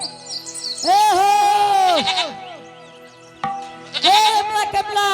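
A goat bleats loudly and close by, with several wavering, drawn-out calls and a short break before a final cry.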